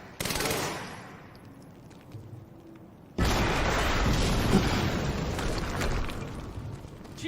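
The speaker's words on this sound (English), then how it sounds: "we just heard an explosion near the harvesting perimeter" Explosions and gunfire ring out in a video game, a sharp burst and then a sudden loud, sustained roar of fire and blast noise that stays dense until the end.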